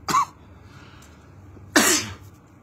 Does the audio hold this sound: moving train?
no